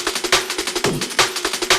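A looped drum break played through a warping mode, with punchy, closely spaced kick and snare hits in a steady, driving rhythm, loud and upfront with no voices.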